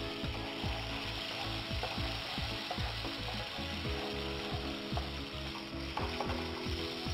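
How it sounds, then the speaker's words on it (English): Tomato and onion paste sizzles and crackles steadily in hot oil in a pan for a Mughlai chicken curry, with rhythmic stirring and scraping clicks throughout, close and moderately loud with no talking. "The oil is hot. I'm going to add my tomato and onion paste."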